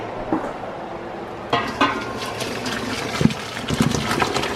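Cooked pasta shells poured into a metal colander in a kitchen sink, with a sloshing gush of water and soft clattering, followed by several sharp clanks of the pan and colander.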